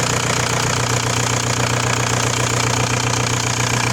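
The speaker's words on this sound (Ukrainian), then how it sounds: "мотор робить взагалі чотенько" A Volkswagen Passat B4 1.9 diesel engine idles steadily with a low, rough knocking rumble, loud and unbroken throughout, with no voices.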